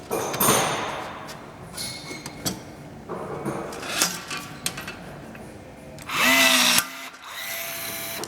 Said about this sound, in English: On this Milwaukee rivet gun, since we're doing the bigger rivets, you have to change the head out